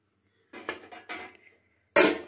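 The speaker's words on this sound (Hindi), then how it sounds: "अब इसके ऊपर हम एक ढक्कन लगाएंगे" A metal lid lands on an idli steamer pot in a home kitchen: a few light scraping clatters, then one sharp, loud clang at the end.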